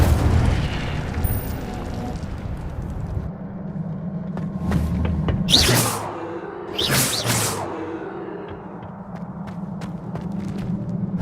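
Incendio fire spell cast in the wizarding game Hogwarts Legacy, a low rumbling bed broken by two bright whooshing bursts of flame a second apart, followed by scattered crackles and a lingering fiery hum.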